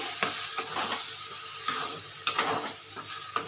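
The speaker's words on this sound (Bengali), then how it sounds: "এবারে এর মধ্যে কড়ার মধ্যে এটাকে দিয়ে দিচ্ছি আমি" Spice paste with ginger sizzles in a hot kadai while a spatula stirs it in irregular scrapes and taps, close and moderately loud with no talking.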